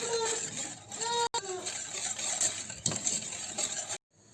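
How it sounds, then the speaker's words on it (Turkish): Continuous clinking and scraping of a whisk against a bowl while mixing egg yolk into milk, brisk and close, with a brief break midway before cutting off. "Şimdi 1 adet yumurta sarısını da ekliyorum ve iyice karıştırıyorum"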